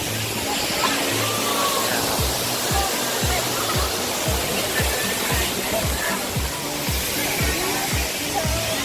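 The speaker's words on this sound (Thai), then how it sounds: "ตอนนี้นะครับเสียงค่อนข้างดังเลยเพราะว่าอยู่ใกล้กับบริเวณน้ำตก" Khlong Lan waterfall in Kamphaeng Phet roars loud and close, a dense unbroken wash of falling water that fills the whole stretch, with a faint rhythmic low pulsing underneath.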